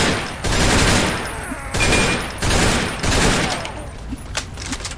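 Rapid bursts of gunfire in a Fallout 3 firefight, loud and close, with several dense volleys separated by short pauses and fainter scattered shots trailing off at the end.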